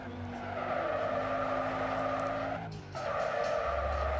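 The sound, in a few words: modified car drifting with skidding tires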